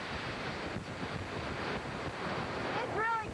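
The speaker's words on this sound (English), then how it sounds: "It's really windy." Strong hurricane wind roars steadily with crashing surf and waves, a loud continuous rush close to the microphone, with a brief whistling gust tone near the end.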